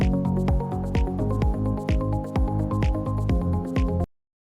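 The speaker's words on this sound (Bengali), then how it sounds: "মশলাটার মধ্যে ডিমগুলো দিয়ে মাখিয়ে নেব।" Boiled eggs are mixed by hand into a spice paste for dim bhapa, giving a close, loud, rhythmic run of wet squelches and squishes at a quick, even pace that stops abruptly.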